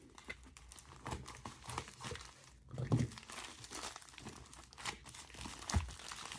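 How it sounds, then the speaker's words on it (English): Scissors cutting into the packaging of a Bangwei BG8818 quartz chronograph watch, with close, quiet crinkling and snipping plus a couple of louder rustling bursts, and no talk. "let's get this watch open. Got my trusty scissors."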